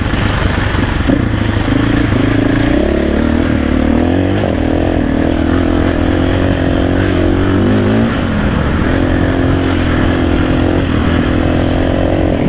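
A KTM 500 EXC-F enduro motorcycle engine, a 2024 model, revs loudly and steadily up close, its pitch climbing and dropping through several throttle blips over a continuous drone.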